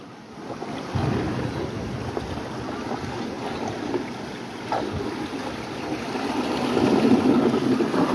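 Water of the Kushiyara river rushing through a sluice gate into the haor, a steady broadband roar with wind buffeting the microphone, swelling louder toward the end.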